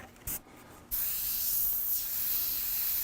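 Airbrush spraying through its hose: a brief hissy burst and sputter, then a steady, close, continuous spray hiss that holds to the end.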